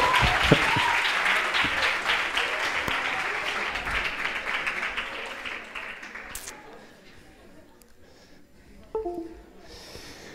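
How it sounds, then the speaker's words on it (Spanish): An audience claps and cheers after a video is shown at a talk, with loud, dense applause and some voices at first, gradually fading to scattered claps and quiet murmuring. "Podéis aplaudir, ¿eh?"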